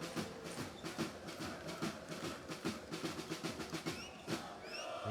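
Loud, dense roar of a European basketball crowd at Besiktas v Partizan in the Champions League, with rhythmic chanting pulses and drumming beats throughout and a few whistles near the end.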